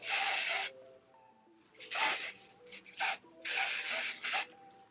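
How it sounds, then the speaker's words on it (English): Abin New York tinted lace spray in light warm brown hisses onto wig lace in several close bursts, each about half a second to a second long, with short pauses between them. "this is the Abin New York tinted lace spray in light warm brown"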